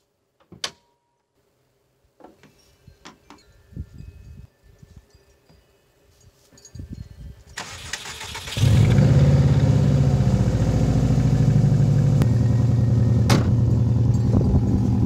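A few clicks and quiet mechanical rattling, then a car with a completely dead battery, boosted by a Balight 1200A mini jump starter, cranks and catches, settling into a loud, steady idle.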